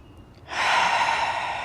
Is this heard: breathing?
yes